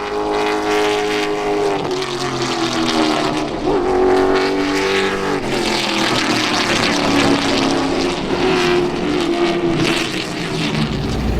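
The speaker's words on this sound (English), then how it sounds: "Makes it real easy while cars is out there practicing." Race cars practicing at Tri-County Motor Speedway, heard as a continuous loud, layered engine drone whose pitch rises and falls as cars lap past, with several engines overlapping and no talk.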